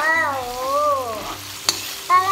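Garlic sizzles steadily in butter in a pan for garlic buttered shrimp, with a soft, continuous frying hiss under a melodic voice that hums or sings over it.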